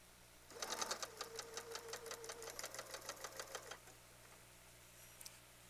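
A sewing machine stitches a seam with a steady, rapid mechanical chatter that runs for about three seconds and then stops. It is close and clear over a faint background hum, and no one talks.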